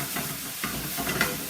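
Sriracha chili sauce sizzles in a hot pan for a Thai-style coconut sauce, a soft crackling hiss with light stirring scrapes, close and fairly quiet, no voices.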